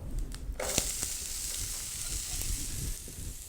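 Onion fries in a pan on a stove turned down low, a close steady sizzle with a few stirring knocks at the start, then an even hiss.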